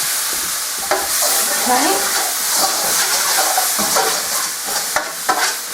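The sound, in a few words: vegetables being sauteed in a pan for fish pie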